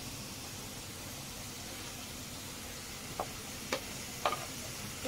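Fried potatoes simmering in a pan with ground spice paste and a splash of water, a soft continuous sizzle with a few sharp clinks of a utensil near the end.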